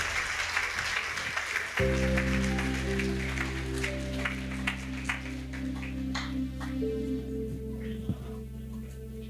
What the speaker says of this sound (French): Let's clap for Lord Jesus Christ.